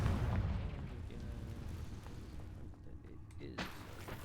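A Confringo spell explosion in Hogwarts Legacy lands as a heavy burst with a low boom and crackling tail. A second sharp pop follows near the end, moderately loud over game ambience.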